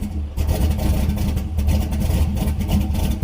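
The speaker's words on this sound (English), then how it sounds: "I got to start it and see what it sounds like now. So first start with the coupler on." An LS V8 engine swapped into a turbocharged Mazda Miata starts up: a loud, close, rumbling engine burst with lumpy idle pulses and slight revving, alone without talk.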